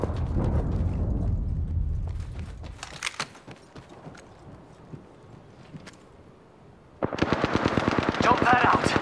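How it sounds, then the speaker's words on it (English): Gunfire in a PC battle royale shooter: a rumbling burst at first, scattered single shots, then a loud sustained rapid machine-gun volley near the end, with a player talking intermittently. "Getting shot at."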